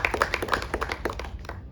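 Audience applause at a Tamil film event: a short burst of scattered, fairly close hand claps with an uneven rhythm, loud at first and then thinning out, with no talking over it.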